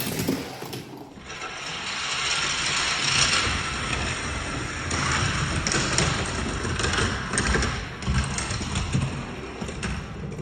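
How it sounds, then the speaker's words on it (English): Plastic Hot Wheels Ultra Hots race track gates drop with a clack, followed by a continuous rattling whir of toy cars rolling down the track, fairly loud and steady throughout. "let's go ahead and drop those gates"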